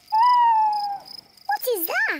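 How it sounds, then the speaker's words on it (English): A cartoon owl hoots in a Peppa Pig nighttime nature scene: one long steady hoot, then quick wavering hoots, with faint crickets chirping in the background. "That's an owl."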